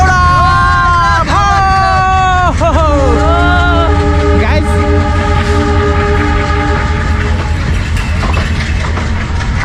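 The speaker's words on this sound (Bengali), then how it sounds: "এখনই ট্রেন চলে যাচ্ছে" A train horn blares repeatedly over the loud, steady rumble of a passing train, with crowd chatter in the background.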